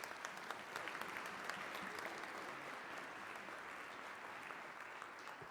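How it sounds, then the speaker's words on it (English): Audience applause for conference panelists at a social protection financing event, steady dense clapping from a crowd that holds at an even level for the whole stretch with no voices over it. "May I please give a big round of applause to my panelists."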